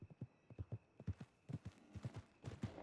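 Mule hooves in Red Dead Redemption 2 clip-clop at a steady, quick trotting rhythm, close and clear, with a faint hum in the background.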